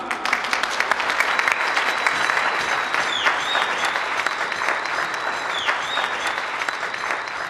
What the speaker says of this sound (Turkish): Şimdi bu gecenin en kuvvetli alkışını rica ediyoruz sizden